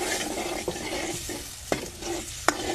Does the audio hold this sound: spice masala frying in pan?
yes